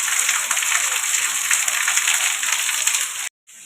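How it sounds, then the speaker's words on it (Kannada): Rain falls steadily in a dense, even hiss of drops, close and loud, then cuts out briefly near the end. "ಮಳೆ ಬರಕತ್ತದ್ರಿ"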